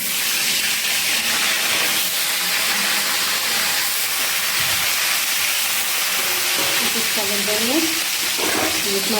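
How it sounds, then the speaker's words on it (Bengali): Hot oil sizzles and crackles continuously in a kadai, a steady bright hiss that persists throughout, with faint voices briefly in the background. "কড়াইতে তেল গরম হয়ে গেছে"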